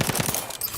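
Rapid burst of automatic gunfire in the video game The Outer Worlds 2, three or four quick loud shots in under a second followed by a brief dense rattle.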